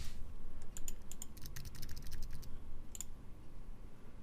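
Quick bursts of keystrokes on a computer keyboard as a password is typed, irregular clicking clusters with short pauses and a final pair of taps, close and clear over a low background hum.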